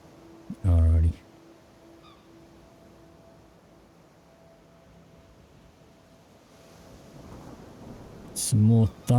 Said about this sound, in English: Some more thunder.